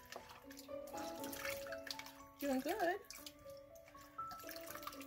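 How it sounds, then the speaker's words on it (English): Water splashes and trickles as soap is rinsed off a kitten during a bath, soft and close under a person talking, with a brief wavering cry in the middle. "We're going to rinse off the soap."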